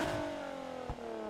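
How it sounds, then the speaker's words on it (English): Exhaust of a customised 1975 Volvo 242DL revving in Need for Speed Heat, a steady mid-pitched drone with a short throaty blip near the end, fairly quiet and with no talk. "Exhaust sound."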